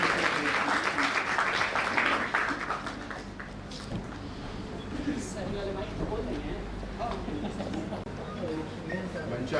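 At a philosophy department event at MMC College, Patna, an audience applauds to welcome a professor. The clapping is dense and moderately loud at first, then thins and fades, with a voice speaking over it.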